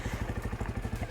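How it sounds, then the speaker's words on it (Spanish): A geared motorcycle idling and starting to roll as the clutch is eased out gently with no throttle, a low, steady, rapidly pulsing engine putter close by, brief and even. "Y voy soltando muy suavemente, fijaros, y la moto se mueve."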